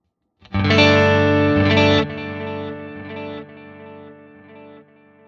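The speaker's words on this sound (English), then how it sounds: "you'll hear we're getting our ping pong left and right again" A distorted, chorused guitar chord through a CorOS stereo cab, ringing out with ping-pong stereo delay repeats that step down in level and fade over several seconds.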